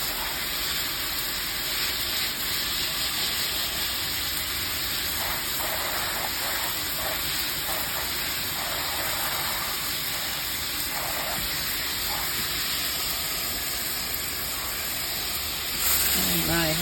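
A garden hose sprays water across a dirty outdoor deck during spring cleaning, a steady, loud hiss and gush that runs throughout with slight splashy variations, ending in a brief louder burst.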